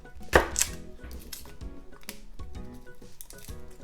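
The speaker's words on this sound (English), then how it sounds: "Then let's smash the garlic." A knife blade pressed and smashed onto garlic cloves on a cutting board, a sharp crunching thump near the start followed by softer knocks and kitchen handling sounds, close and alone.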